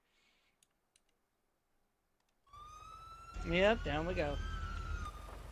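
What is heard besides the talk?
police sirens in a role-play video game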